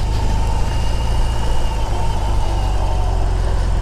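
A BMW R18 motorcycle engine runs loud and close, a steady low, throbbing idle with a dense mechanical rumble that holds unchanged from start to finish.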